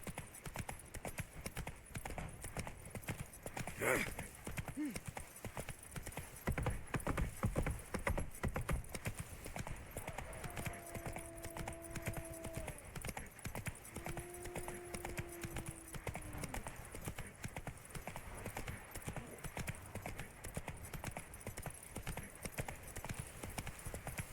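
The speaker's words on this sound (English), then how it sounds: "Whoa there, Roach" Horse hooves clip-clop steadily at a walking pace in The Witcher 3 video game, a continuous rhythmic patter over background ambience with a brief whinny-like tone midway.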